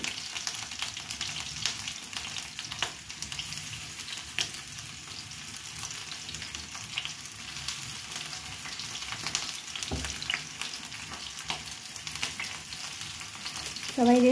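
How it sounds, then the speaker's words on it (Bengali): Marinated chicken pieces frying in oil for homemade chilli chicken, a continuous dense sizzle with crackles and occasional stirring clatter, close and steady, with a brief clink near the end and no talking. "মতন এটাকে ভেজে নেওয়া হচ্ছে চিলি চিকেনে।"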